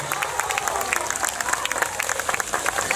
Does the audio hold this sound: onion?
no